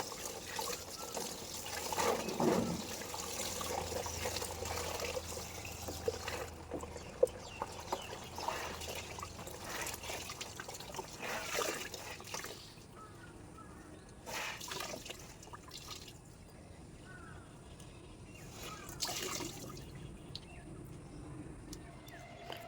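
A bedsheet is washed by hand with water on a rooftop, with trickling, dripping and splashing water that comes and goes in bursts over a faint background, moderately close.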